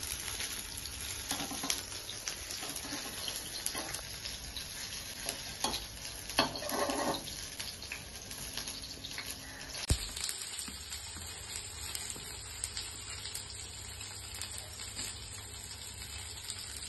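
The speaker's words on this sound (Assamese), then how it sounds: "ইপিনে কেৰাহীত মই এতিয়া ভাজি আছোঁ মাছৰ কণীৰ বৰা" Fish roe fritters with onion and chilli fry in a kadai, giving a steady, close sizzle and crackle of hot oil that runs throughout, with occasional stirring clatter and a brief knock midway.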